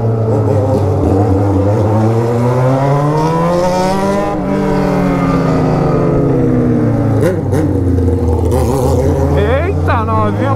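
Yamaha XJ6 motorcycle engine revving loudly and close, its pitch rising and falling in repeated sweeping revs, with brief sharp bursts near the end.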